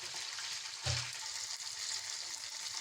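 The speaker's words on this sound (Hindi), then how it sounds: "कम से कम हम इन्हें 3 मिनट के लिए अपने चिकन को फ्राई करेंगे" Chicken pieces frying in hot oil for a kachnar curry, a steady bright sizzle throughout with a brief stir or clatter near the start, close and moderately loud with no talking.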